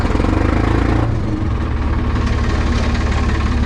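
A Hattat 240S tractor diesel engine idles loudly and close after an oil change, a steady rhythmic chug that shifts slightly in tone after the first second.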